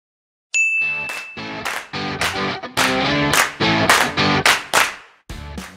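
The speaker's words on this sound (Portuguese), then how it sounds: "Roda a vinheta!" A short channel intro jingle for a Brazilian botany lesson bursts in after a brief silence with bright bell-like dings and punchy musical hits, loud and rhythmic, ending in a final low thump.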